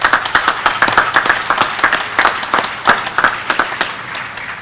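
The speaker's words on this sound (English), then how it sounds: "Let's give them one more round of applause," Audience applause at a military change of command ceremony: a crowd clapping with distinct individual claps standing out in quick, uneven rhythm, fairly close and sustained for several seconds.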